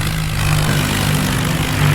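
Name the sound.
tractor engine revving in Indian Vehicle Simulator 3D video game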